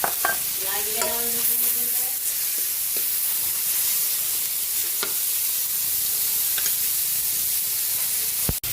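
Ground pork with tomato sizzles loudly in a pan, a continuous bright frying hiss broken by a few stirring scrapes and knocks, with brief speech early on and a sharp clack at the end.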